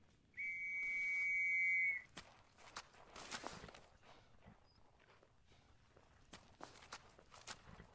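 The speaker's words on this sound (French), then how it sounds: "Stop, à mon coup de sifflet." A sharp whistle blast rings out loud and steady for about a second and a half, followed by scattered footsteps and small knocks.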